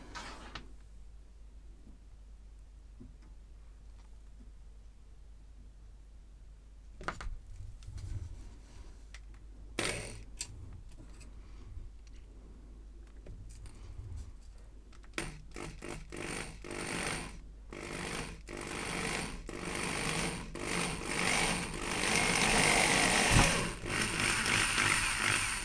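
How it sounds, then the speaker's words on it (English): A drill cuts through the casing of a Commodore Plus/4 computer for a power socket swap, starting with scattered clicks and handling knocks before building into a dense, rising grinding whine that grows louder toward the end. "Let's drill and see how we get on."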